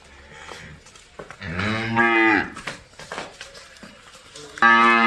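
A pregnant buffalo heifer at a dairy farm moos twice, the first call long and drawn out, the second starting loud near the end, close by, with muffled human speech and handling noises between the calls.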